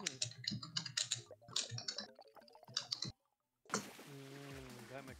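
Mechanical keyboard typing, a dense run of sharp clicks mixed with ongoing talk, then a short silent gap before speech resumes over the clatter.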